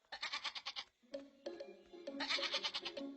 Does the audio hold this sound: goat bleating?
yes